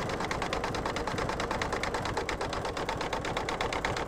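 An embroidery machine stitches an in-the-hoop mug rug with a fast, steady mechanical chatter of rapid needle strokes. The sound is close, even and continuous, with no voices.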